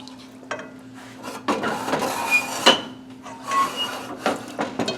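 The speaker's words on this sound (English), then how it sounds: "I'm just going to slowly, carefully, because you don't want to break your meatballs up, stir this up" Meatballs are stirred slowly in a beef broth and sour cream sauce, with irregular scraping and clinking of a utensil against the pan, close and moderately loud, alone over a low steady hum.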